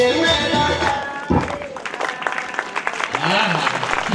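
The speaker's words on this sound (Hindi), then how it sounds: "फिर से तालियों के साथ धन्यवाद करेंगे प्रभु की ओर" A church congregation at a Christmas program applauds together, a dense wash of clapping that fades and thins, with voices and talk running over and after it.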